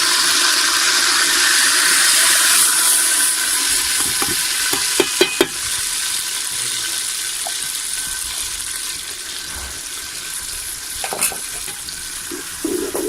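Chopped onions fry in ghee with a continuous close sizzle, broken by a few sharp clinks and scrapes of a spoon against the pan.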